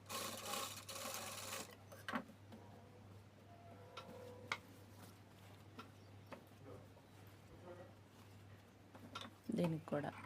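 A sewing machine stitches a children's work blouse, running a seam on a folded strip for hooks and buttonholes; a steady, fast ticking rattle in short runs, with a person speaking quietly over it.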